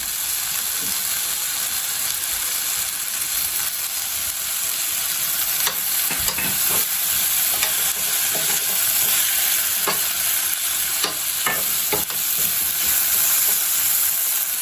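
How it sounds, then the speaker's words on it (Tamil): Shallots and coconut sautéing in a pan for a ladies finger kuzhambu, with a loud continuous sizzle and frequent spatula scrapes and clicks against the pan throughout, no voices. "இப்போ வெங்காயம் வதங்கிடுச்சு தேங்காய் போட்டுக்கலாம்"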